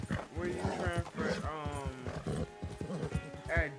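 Horse hooves clip-clop at a steady pace in the Western video game Red Dead Redemption 2, running under continuous close talking by a man.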